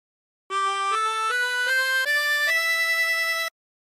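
Twenty-four-hole tremolo harmonica plays a short phrase of God Rest Ye Merry Gentlemen: six sustained reedy notes stepping steadily upward, each with a slight wavering tremolo, close and clear with no talking.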